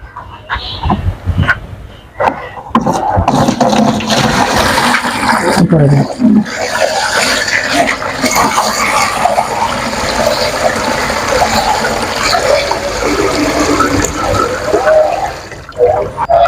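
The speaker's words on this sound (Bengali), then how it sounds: "আপনি এবারে ভক্তি ভরে এই জলটাকে নিয়ে বিগ্রহের ওপরে দিন।" Water poured steadily over a deity idol, a continuous loud splashing rush lasting many seconds after a few scattered knocks and clatters at the start.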